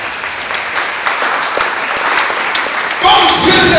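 A church congregation applauding during a deliverance worship service, steady dense clapping throughout that swells louder near the end, with a voice speaking over it.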